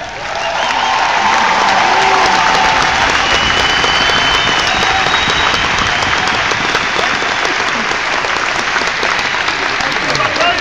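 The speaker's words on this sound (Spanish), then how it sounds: "And watch how many people cheer for your team." A large convention audience applauds and cheers steadily throughout, a dense, continuous wash of clapping with scattered shouts that stays loud and even from start to finish.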